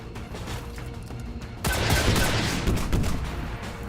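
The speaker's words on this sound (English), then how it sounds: "maybe we'll just lob a missile back here" Missile launch and gunfire in the turn-based strategy game XCOM 2: a muffled lead-in, then a sudden loud burst of explosive firing that rumbles and fades.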